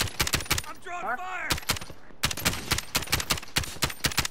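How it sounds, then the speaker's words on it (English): Rapid gunfire in Call of Duty Warzone crackles in repeated bursts and single shots, loud and close, with a brief whistling tonal sweep in between and a short pause before the shooting resumes. "I'm getting shot from my left."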